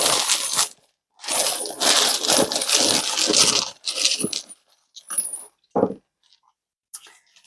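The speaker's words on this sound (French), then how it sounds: "Je commence donc par les dés et les breloques" Dice and small charms tossed onto a surface for a divination reading, with several close, loud bursts of clattering and jingling separated by short pauses and no voices.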